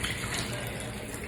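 Water running steadily from a tap while someone washes their face, a continuous close splashing flow with no voices.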